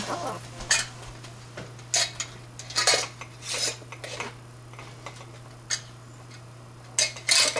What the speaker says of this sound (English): So I'm going to go ahead and put the lids on